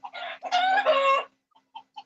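Chickens cluck close by: a run of loud throaty calls followed by a few short, quieter clucks after a brief pause.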